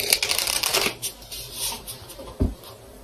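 Tarot cards are shuffled up close in steady, papery riffles and flicks, loud at first and then softer, ending with a single soft thump.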